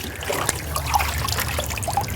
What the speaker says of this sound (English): it's spraying a lot more water right now than it was earlier